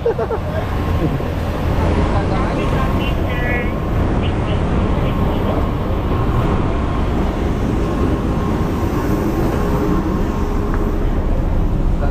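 A loud, steady rumble of an MRT metro train running on rails fills the clip, with a faint squeal and muffled voices in the background.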